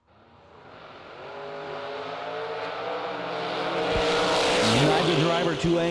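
Drag racing cars, a Monza and a Roadster, roar off the starting line together, engine noise building steadily into a loud, rising revving launch with a brief tire squeal near the end.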